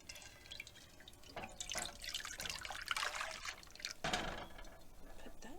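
Milk is poured from a container into a pot of spiced homemade eggnog, making a steady close liquid stream with splashy bursts that swell and fade over several seconds.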